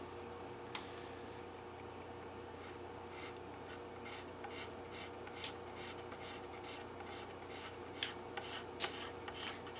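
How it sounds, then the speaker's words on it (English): Scraper drawn lightly over the finish of a Gibson Midtown guitar: a run of short, faint, evenly spaced rasping strokes, quiet and close, with a low hum underneath and no talk. "Before I wet sand, I'm just going to try and get a head start with a scraper. Just a real light scrape."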